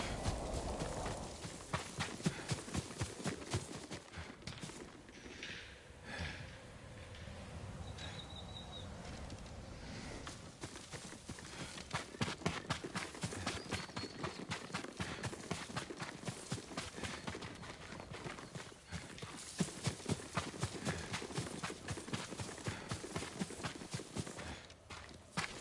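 In the video game Ghost of Tsushima, a horse's hooves clip-clop in a steady walking rhythm, quiet and fairly close, with faint birdsong in the background.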